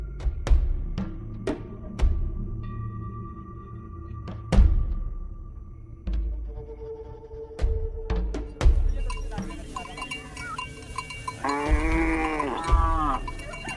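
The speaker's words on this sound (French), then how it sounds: "Isaka possède 30 vaches." A herd of about thirty cows kept in a boma enclosure in rural Africa, with clanking bells, scattered thuds and animal calls, plus a drawn-out bleat-like call near the end, all up close.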